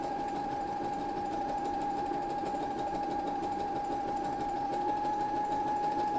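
A sewing machine stitching zigzag seams in fabric, driven by a foot pedal, gives a continuous fast mechanical whir with a steady tonal hum, running without pause and fairly quiet.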